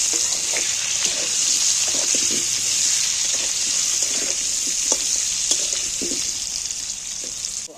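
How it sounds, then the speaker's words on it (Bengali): Potato pieces with turmeric fry gently in oil over low heat while being stirred, a steady close sizzle dotted with soft scraping and clicking strokes of the spatula. "এবারে আমি উনুনে জাল একটু কমিয়ে দিয়ে আস্তে আঁচেতে আলুগুলোকে নাড়াচাড়া করে একটু লাল লাল করে ভেজে নেব"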